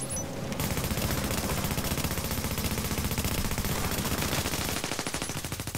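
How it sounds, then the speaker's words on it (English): Video game gunfire plays as a long, loud stream of rapid automatic shots in an even, fast rhythm that fills most of the span before easing off near the end. "Why are you shooting from there?"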